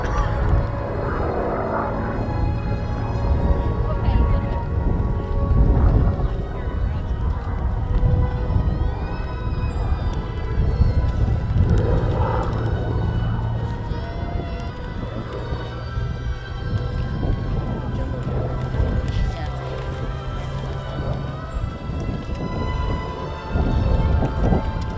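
A P-40 Warhawk sweeps low and fast past the crowd at the Geneseo air show, its piston engine a loud rough roar that rises and falls over about half a minute while a commentator talks.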